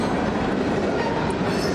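A freight train, probably a manifest headed toward Mobile or New Orleans, rumbles past on Alabama track in a steady, loud, close roll of wheels and cars with faint rail clatter and no talk.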